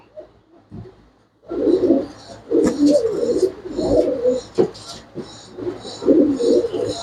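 Pet pigeons coo close by in repeated soft, throaty bursts after a quiet opening, with a few sharp clicks and a voice at times among them.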